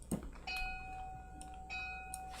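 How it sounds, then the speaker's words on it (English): A loud alert bell for live trade notifications rings out in a few clear, sustained chime tones, each strike ringing on with a bright metallic hum against a quiet background. "There's a loud ringing bell. Ding, ding, ding, ding, ding, ding, ding, and it tells you what to do."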